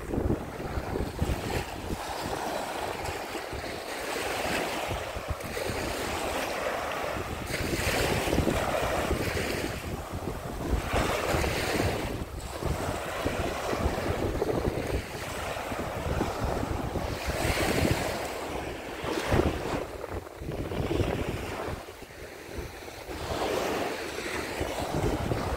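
Sea waves wash continuously onto the beach at Hel on the Polish coast, a steady roar of surf mixed with strong wind buffeting the microphone, with no talk.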